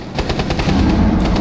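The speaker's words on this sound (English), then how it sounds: "Clearly there's an explosion." Gunfire in the video game Rainbow Six Siege, a loud, dense, rapid burst of automatic shots hammering in steady succession during a firefight, close and harsh with no voices.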